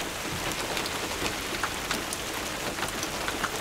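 A heavy rain shower pours down in a dense, continuous hiss, with scattered sharper drop impacts throughout and no voices.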